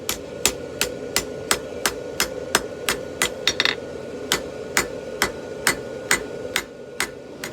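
A hammer strikes hot 5160 steel on an anvil while a camp knife handle section is forged out, giving a steady run of sharp ringing blows, roughly two or three per second, close and clear with no speech.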